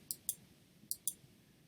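A computer mouse clicks while editing tools are toggled on and off during photo post-production, two pairs of crisp, faint clicks separated by a short pause over quiet background hiss.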